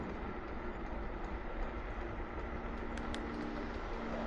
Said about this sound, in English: and the occasional train